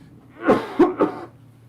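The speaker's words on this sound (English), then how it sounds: "I do apologise about the coughing." Three quick coughs in a row, the last two close together, fairly near and alone with no talking.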